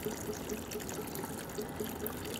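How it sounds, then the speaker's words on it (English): Water is poured from a jug into the basin of a wood side table, a steady trickling splash running continuously at moderate volume with no voices. "So I poured about a gallon of water in there"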